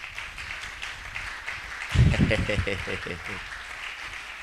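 Congregation at a church service bursts into applause and acclaim for the king, a loud surge of clapping and raised voices that swells suddenly and then settles into rhythmic clapping under singing.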